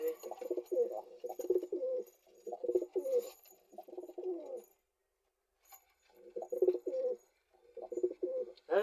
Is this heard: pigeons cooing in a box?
yes